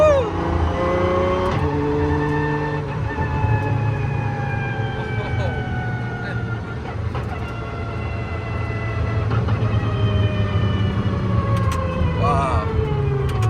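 Apollo IE hypercar engine roaring steadily from inside the cabin, a loud sustained drone with rising and falling pitch through gear changes, continuous and close.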